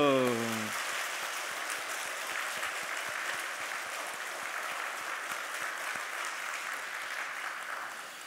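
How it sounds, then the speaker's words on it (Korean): A church congregation breaks into dense, steady applause during a Sunday worship service, a brief voice at the very start giving way to sustained clapping that carries on throughout. "박수도 아주 그냥 손바닥에 아주 그냥 뜨거운 열기가 느껴질 만큼"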